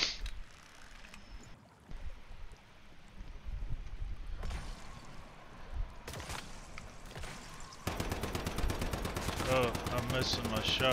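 Rapid automatic gunfire from the survival shooter game Once Human, loud dense bursts with a sustained rattling volley toward the end, mixed with game ambience and softer earlier shots.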